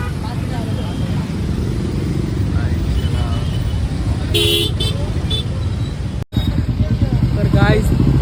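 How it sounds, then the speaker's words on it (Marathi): Heavy road traffic near Lonavla, with car and motorcycle engines and repeated horn toots over a dense, constant roadway rumble, while a person talks throughout. "खूप ट्रॅफिक आहे खूपच."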